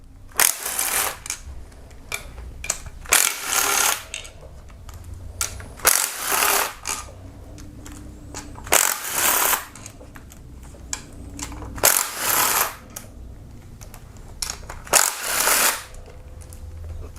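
Ratchet wrench clicking in repeated bursts as 12mm and 10mm bolts come out of the oil pump on a Kia Optima, each burst of rapid metallic clicks separated by short pauses, close and fairly loud with no talk.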